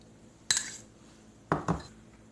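Two bursts of a fork or spoon clattering against a bowl as egg with salt and black pepper is whisked, brief and close with a quiet pause between them.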